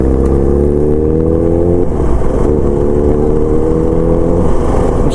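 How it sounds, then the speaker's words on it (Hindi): Loud, close engine of a Ninja motorcycle ahead on a ride toward a waterfall, droning steadily with a pitch shift midway as it revs, no voices over it. "और सामने हमारा जा रहा है नीजा, जिसका आवाज़ खतरनाक है भाई, खतरनाक"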